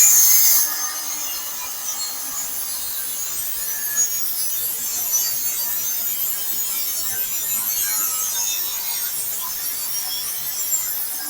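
An extra metal piece is cut off a welded frame, giving a steady, close, hissing cut that runs unbroken for the whole stretch with no talking.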